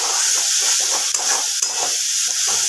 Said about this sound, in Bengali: মশলাটাকে ভালো করে আরেকবার কষিয়ে নেব